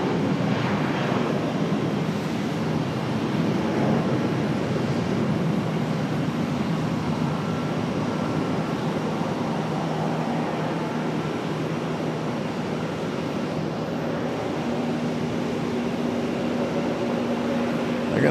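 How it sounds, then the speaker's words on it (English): An American Airlines Airbus A319 airliner departs at Charlotte airport, a broad sustained engine roar heard from a distance, steady and fairly loud throughout with no talk. "speaking of A319s, here goes one for departure."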